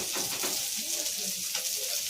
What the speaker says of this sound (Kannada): ಚಂದ ಫ್ರೈ ಆಗುತ್ತೆ ಅವಲಿಕ್ಕಂದ ಸ್ಮೆಲ್ ಬರ್ತಾವ